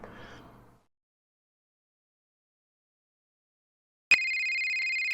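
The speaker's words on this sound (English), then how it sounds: "Phone call." A phone rings in the horror video game Five Nights at Dolma's, a loud steady electronic ring cutting in abruptly after a brief burst of noise and a long silence, ringing on alone to the end.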